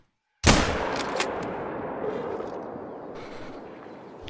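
A single loud hunting rifle gunshot in theHunter: Call of the Wild, set in a savanna, with a sharp crack followed by a long rolling echo that slowly fades.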